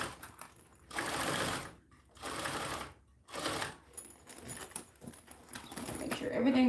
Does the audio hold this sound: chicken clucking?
no